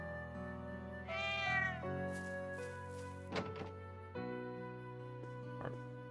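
Deep, drawn-out meow from a tiny cat in Trails of Cold Steel II, heard near the chapel, rising and harmonic over steady game music, followed by a soft thunk and a second shorter mew.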